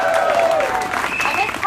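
A community audience at a political meeting cheers and claps together, a continuous wash of applause with raised voices and whoops mixed in, fairly loud and sustained.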